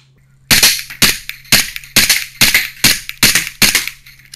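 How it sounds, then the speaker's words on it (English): An SSP 18 airsoft pistol fires full auto in the dark, giving eight sharp, close cracks in a quick, evenly spaced burst over a faint background hum. "Maybe a little bit of full auto with the SSP 18."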